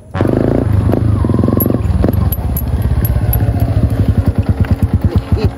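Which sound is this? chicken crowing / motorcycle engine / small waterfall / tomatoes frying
motorcycle engine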